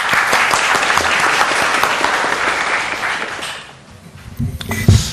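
A large audience at a regulatory reform forum breaks into sustained, dense applause that fills most of the moment, then thins into scattered claps and a few louder closing claps.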